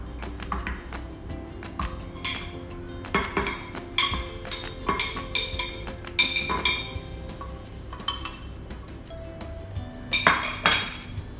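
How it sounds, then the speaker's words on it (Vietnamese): Boiled bones tipped into the pot of a Ukoeo Pr5 cooking machine in a home kitchen, a run of irregular hard clinks, clatters and knocks of bone on metal, close and moderately loud with no voices. "Mình sẽ cho toàn bộ số xương mà chúng ta đã luộc qua này vào trong chiếc máy."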